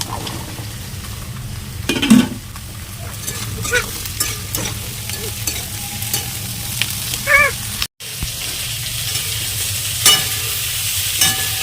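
Capsicum and chopped onion stir-fried in garlicky oil for chilli chicken, giving a steady close sizzle with repeated scraping stirs and brief clatters of the pan throughout.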